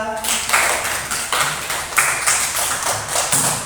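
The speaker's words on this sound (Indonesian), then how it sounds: "Tepuk tangan buat Adefa." Classroom applause for a second-grade student in a religious studies lesson breaks out as a loud, uneven patter of many small hands clapping, pulsing in quick bursts over a few seconds.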